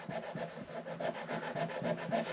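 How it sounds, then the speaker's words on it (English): The neck joint of a Martin D-45 acoustic guitar is sanded by hand, a close, quiet rhythmic rasping of abrasive on wood in quick repeated back-and-forth strokes, with no talking. "I'm just going to sand that junction right there"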